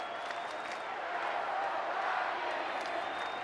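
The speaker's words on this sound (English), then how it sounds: "now a Let's Go Yankee chant rising up here in Colorado" A stadium crowd at a Yankees game in Colorado chanting "Let's Go Yankees," a broad steady roar of many voices filling the air at a constant loud level throughout.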